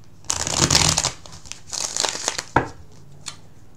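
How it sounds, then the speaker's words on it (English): Tarot cards shuffled and riffled by hand at close range, a long dense burst of flapping and crinkling paper followed by a second rustling run and a few short sharp snaps, with no talking. "let's go ahead and do another shuffle, a bit more of a shuffle, and one more rifle on the cards"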